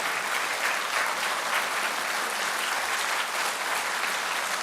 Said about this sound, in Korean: 여러분 큰 박수 한번 보내주십시오.